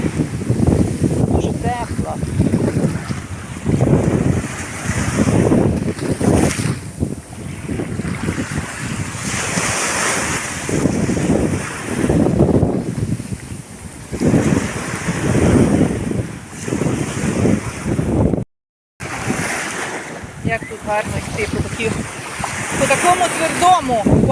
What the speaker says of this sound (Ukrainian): Тут вода б'є біля берега, а там зовсім абсолютно ще спокійна вода